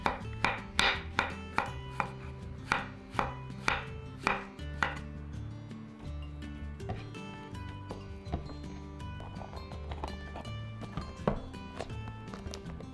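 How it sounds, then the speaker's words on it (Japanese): A kitchen knife slices shiitake mushrooms on a cutting board, giving a steady series of close, crisp chops that start sharp and evenly spaced, then turn into quicker, lighter cuts, with no talking. "しいたけは石突きを落として傘と軸に分けスライスします。"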